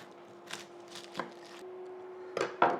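An onion being chopped with a knife on a cutting board: a few sparse, quiet knocks spread out, ending with two sharper cuts close together, over a faint steady kitchen hum.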